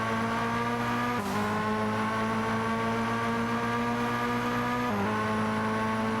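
Race car engines in a Gran Turismo video game race drone steadily at high revs, with brief pitch dips at gear shifts, loud and continuous with no talk.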